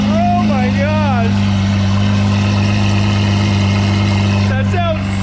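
A Lamborghini Aventador V12 runs steadily at a loud, close idle, its deep even drone constant throughout, with brief rising whine tones near the start and end and voices talking over it.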